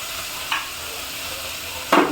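Ginger, onion and tomato fry in a pan for vegetable biryani, a soft steady sizzle broken by two brief scraping stirs of a spoon.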